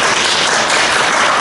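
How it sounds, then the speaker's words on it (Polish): Audience applause at a panel discussion forum, a brief burst of dense clapping from a room of people, loud and continuous over a second and a half. "Brawa, więcej brawa."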